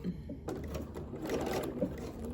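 Sewing machine stitching across the pleats of a cloth face mask, a close, quiet mechanical whir with a few light clicks.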